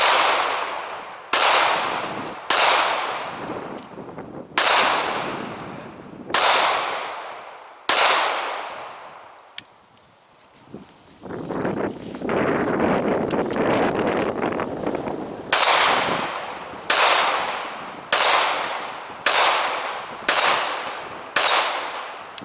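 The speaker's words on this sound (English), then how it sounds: "we're just going to fire some rounds through these bad boys and see what happens" Single pistol shots from Ruger LCP .380 handguns ring out outdoors, sharp loud cracks spaced a second or two apart, with a pause and a stretch of rustling handling noise midway before the regular shots resume.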